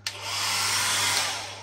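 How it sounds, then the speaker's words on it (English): A hotel room hair dryer in a Marriott in Milan, Italy switches on with a click and blows with a steady, loud whoosh and motor hum. "Hotel hairdryer, in case you forget."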